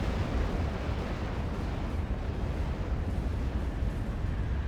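Continuous dense rumble of grenade explosions from the real-time strategy video game Act of Aggression, with a Fenick unit firing; booms overlap into a steady loud barrage throughout, with no talk.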